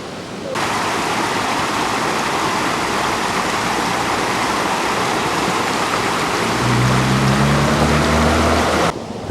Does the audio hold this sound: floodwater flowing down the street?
yes